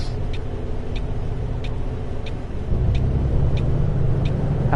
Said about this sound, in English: let's get this handbrake released